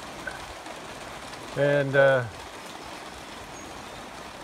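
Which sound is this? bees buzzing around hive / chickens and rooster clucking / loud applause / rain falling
rain falling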